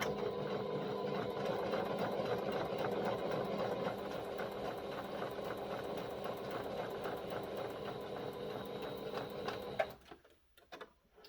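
A sewing machine running a long gathering stitch at stitch length 4.8 with tension turned up, a steady, even mechanical whir that runs unbroken for about ten seconds and then stops, followed by faint handling sounds.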